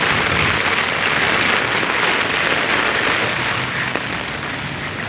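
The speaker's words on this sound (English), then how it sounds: "And it's raining heavily now." Heavy rain in Yuen Long, Hong Kong, makes a loud, unbroken wash of hiss and patter from start to finish, with no voices over it.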